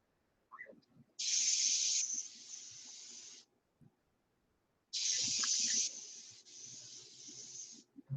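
Paint spray gun running at low air pressure of about 15 psi while painting a Continental, two bursts of steady hissing spray each lasting a few seconds, separated by a quiet pause with faint handling knocks.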